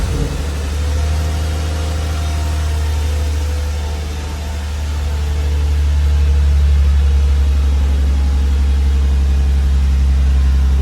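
A Lexus AWD engine fitted with new headers and a factory catback idles steadily up close, a deep constant rumble that swells slightly partway through, with no speech.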